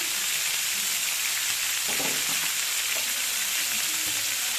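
A steady, close sizzle of garlic powder and spices frying in a hot pan for kidneys, with a few soft stirring scrapes in the middle.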